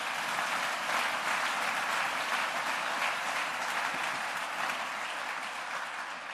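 A church congregation applauds at a service, a dense, continuous clapping that stays steady and fairly distant for several seconds, slowly easing off toward the end.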